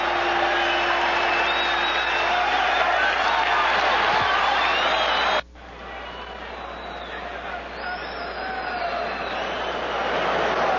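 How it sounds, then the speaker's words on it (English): A boxing crowd roars and applauds loudly and steadily after Mustafa Hamsho is caught on the chin by a right hook, with a sudden brief drop in the noise before it swells again. "And the crowd echoed that one."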